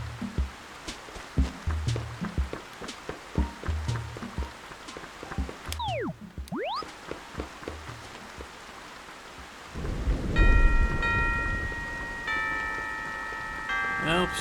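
Steady rain falls in Animal Crossing, with deep rumbles of thunder early on and a swell of rain near the end, while a bright chiming tone sounds over the downpour.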